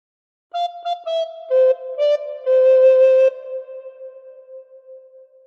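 Recorder playing the opening phrase of Happy Birthday, a clear breathy melody of short tongued notes followed by a longer held tone fading out.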